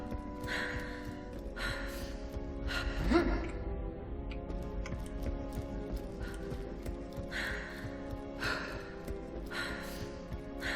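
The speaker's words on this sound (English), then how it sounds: "Yeah, we're just gonna have to listen to the panting now." A character pants in the video game Borderlands 2, during a fantasy-quest DLC, with rhythmic breathy gasps repeating about once a second over sustained background music.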